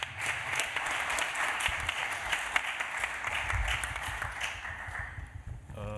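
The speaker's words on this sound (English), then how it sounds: "One last round of applause for Alan and Janetta, please." An audience at a scientific conference session claps steadily for several seconds, a dense, even applause heard from within the hall.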